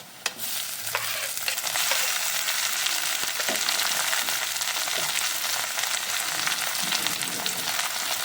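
Chopped tomato, garlic and ginger sizzle in a pan while being stirred for a mashed aubergine dish. The frying hiss is loud and continuous, with a few faint scrapes and knocks of the spatula.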